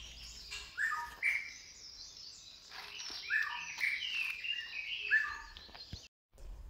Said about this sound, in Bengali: এতই নিরিবিলি যে পাখিদের আলাপচারিতাগুলো বেশ ভালোভাবেই শোনা যায়